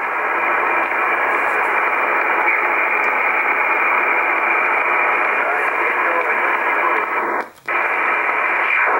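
A steady band of hissing shortwave radio noise around 12 MHz carrying a faint, garbled signal from an unknown station, briefly dropping out before resuming.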